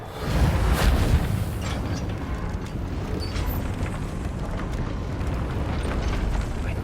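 Magical Reparo repair of a broken lift in Hogwarts Legacy: a loud, dense rumbling burst with crackling debris that swells in the first second, then settles into a sustained mechanical roar and clatter, with no voices.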